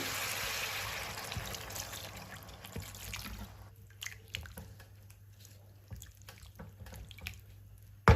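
Water pours onto chicken pieces for a restaurant-style chicken fry, first a steady close splashing stream, then softer drips and trickles, fairly quiet throughout.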